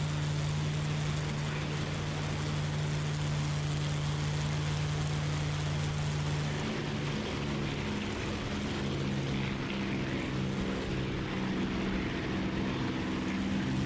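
A P-51 piston engine in the DCS World flight sim drones at a steady idle, then its tone drops and the running note breaks up as the engine shuts down, leaving a rough, fading rumble under a constant wash.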